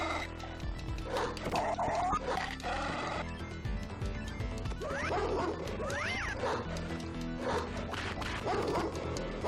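A dog barks and yips in a retro video game as it catches the player, busy chiptune music and game effects playing loudly throughout with no talk.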